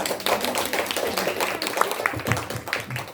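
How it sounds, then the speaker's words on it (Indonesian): An audience of teachers at a high school gathering claps hands together, a dense irregular patter of applause that carries on steadily, with faint voices underneath. "Tepuk tangan dulu"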